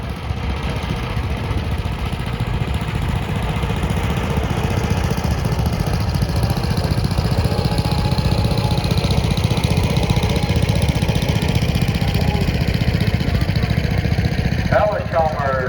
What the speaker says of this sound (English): John Deere Model M.